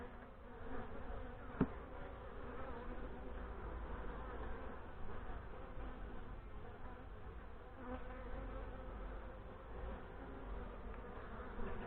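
A dense, steady buzz of many honey bees in an open hive during inspection fills the air, continuous and close, with a few brief louder bumps as insects move near.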